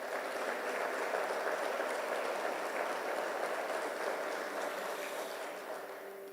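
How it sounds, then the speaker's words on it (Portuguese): A congregation claps in sustained, even applause that fills the room and tapers off slightly at the end. "Você pode aplaudir Jesus?"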